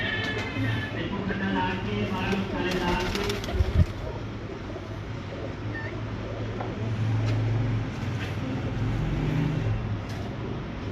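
Red-eyed breeder pigeons coo in a loft, low murmuring calls repeating throughout over steady background noise, with occasional faint clatter and distant traffic.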